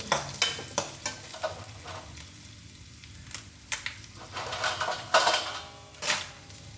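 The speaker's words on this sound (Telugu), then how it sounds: "ఇప్పుడు ఎండుమిర్చి కూడా వేసేస్తున్నాను" Dried red chillies fry in a pan for chutney, making a soft, steady sizzle. A spoon clatters against the pan in sharp, close strokes at irregular moments.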